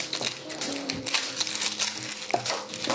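Garlic cloves are laid flat and smacked to crush them, giving a few sharp slaps and crunches with crackly papery skin rustle, close up at a cooking counter.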